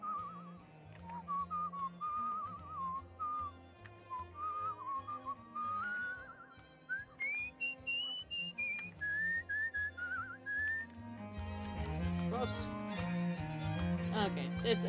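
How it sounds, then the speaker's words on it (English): A person whistles a wandering, melodic tune alone at close range during a walk, long sliding notes rising and falling, with a fuller musical backdrop swelling in toward the end. "Y'all gotta deal with listening to me whistle"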